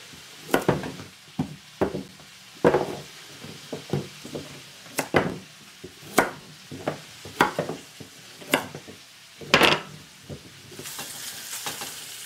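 Chunks of beef browning in a pan sizzle under repeated scraping and knocking of a utensil, with irregular clattering bursts over a steady hiss, close and fairly loud.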